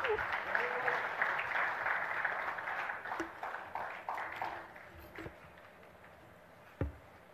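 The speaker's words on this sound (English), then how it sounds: "Can we have a huge round of applause for our presenters as well?" A hall audience at a wedding photography awards ceremony applauds the award presenters, a broad round of clapping that gradually thins out, with a few scattered claps and a louder knock near the end.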